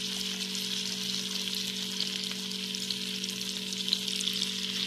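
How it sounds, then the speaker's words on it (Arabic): Batter frying in a pan of very hot oil on a gas stove, a steady, close, continuous sizzle with a faint low hum beneath and no talking. "عايزين نحمرها في زيت حامي"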